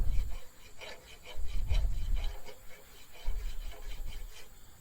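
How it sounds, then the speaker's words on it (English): A metal file rasps back and forth on a driveshaft bolt of a John Deere 310-C backhoe in rhythmic strokes, close and fairly loud, with brief pauses between bursts of filing. "Let's try the file."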